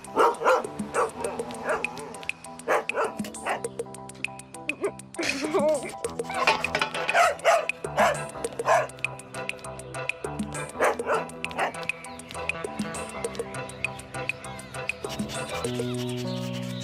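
A dog in a cartoon barks, yips and whimpers in short, uneven bursts close by, with talking voices mixed in between the barks and a musical background underneath.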